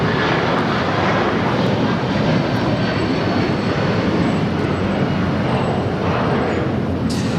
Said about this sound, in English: we got that 757-300 with United now taking off at 25 right.